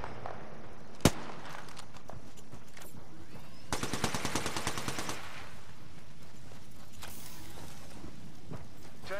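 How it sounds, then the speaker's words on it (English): Gunfire in the video game Apex Legends: a sharp single shot, then a loud rapid automatic burst, then a few scattered shots over low game ambience. "Shots fired."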